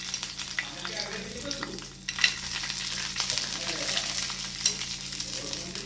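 Peanuts with spices fry in a pan, a steady crackling sizzle with scattered sharp pops and clicks of stirring running throughout, fairly close and moderately loud, no voices.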